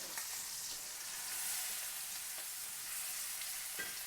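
Scallops sear in a hot pan with a steady, close hiss of frying oil that holds evenly throughout, with a few faint clicks and no voices.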